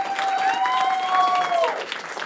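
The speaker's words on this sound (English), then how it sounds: "Round of applause" Audience applause closing a debate event with teenagers: a steady burst of clapping with whistle-like tones riding over it, fading out after about two seconds.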